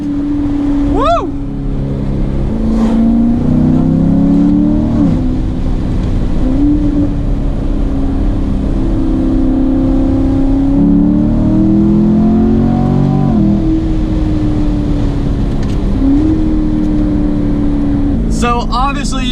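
A loud C7 Corvette revs and accelerates hard on mountain roads, its engine note rising and falling through repeated gear pulls, heard close and steady from inside the car.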